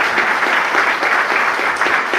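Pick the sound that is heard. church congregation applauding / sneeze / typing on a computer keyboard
church congregation applauding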